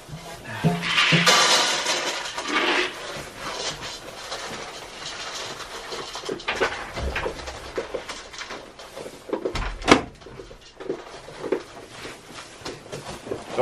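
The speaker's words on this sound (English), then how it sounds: "Close the barn door this morning." A wooden barn door is pulled shut on a chilly morning, its long scraping slide and rumbling rattle filling the clip, with a heavier thud near the end and scattered knocks around it.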